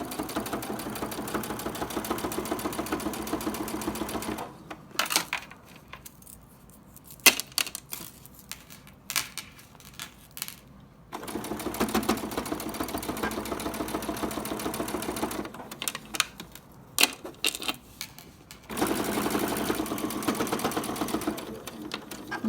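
Sewing machine stitching a table topper, running in steady sustained bursts with brief pauses between seams, close and fairly quiet.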